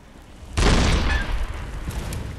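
A cannon firing in the video game Bloodborne, one sudden heavy boom after a quiet start, followed by a long rumbling, crackling decay that trails off without fully fading.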